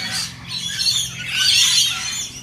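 Parrots squawk and screech in harsh, overlapping bursts, with a dense busy chorus that rises in loudness midway and stays close and continuous throughout.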